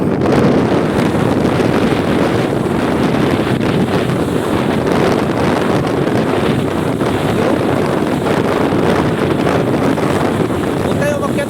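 Strong gusts buffet a seashore where boats are moored, a loud, continuous roar of wind noise with churning surf underneath, steady for the whole stretch with a voice faintly mixed in.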